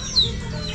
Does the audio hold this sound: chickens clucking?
yes